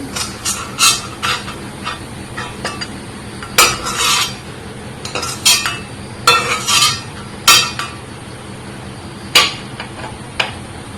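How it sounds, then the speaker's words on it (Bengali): Spinach greens being stir-fried in a pan, with spatula scrapes and metallic clinks against the pan arriving in irregular bursts over a low background, loud and close, with no talking. "আমি যেরকম এই শাক ভাজিটা করছি"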